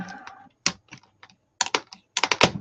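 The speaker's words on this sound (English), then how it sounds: "Okay, these are all connected, so they're all going to have to be unconnected. Wire cutters." Wire cutters snip apart connected metal pieces in a series of sharp, close clicks and snaps, with brief pauses between a few separate cuts.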